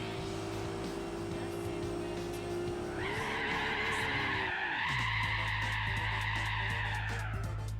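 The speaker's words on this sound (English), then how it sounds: "Gotta rip that handbrake and watch the AI plow it into a wall" In Gran Turismo 4, a racing car's tires squeal in a long handbrake skid while the engine drones and then drops in pitch, loud and close, with nothing else over it.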